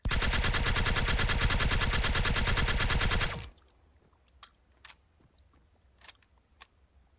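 Sustained rapid automatic rifle fire in the Arma 3 Mass Effect mod video game, a loud unbroken burst lasting about three seconds, then cutting off to quiet background with a few faint clicks and distant pops.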